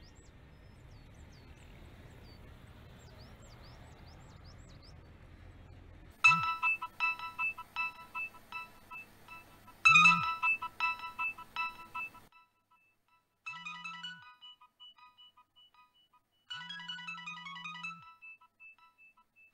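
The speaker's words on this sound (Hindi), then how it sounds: "मदिया तुम्हारा फोन बज रहा है।" A mobile phone plays a melodic electronic ringtone in several loud bursts separated by short pauses, after a quiet stretch at the start, with no talking over it.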